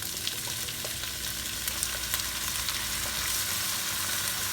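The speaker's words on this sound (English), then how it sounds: "Now for this I'm going to add my soy sauce to end." Green chili chicken nearly done in a pan sizzles in a dense, continuous crackle as soy sauce is added, with faint occasional utensil taps, steady and close without any voices.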